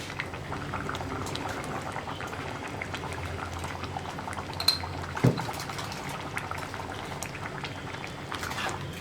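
Green mango and tomato curry simmers and thickens in a pan, bubbling with a steady close wet hiss and occasional pops and a faint clink, without any talk.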